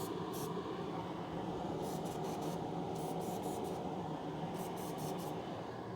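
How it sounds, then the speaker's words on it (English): An aerosol can of brake cleaner hisses into a carburetor jet in a garage, with several short spray bursts over a steady, noisy background hiss. "You don't want me to spray the brake clean into the jet?"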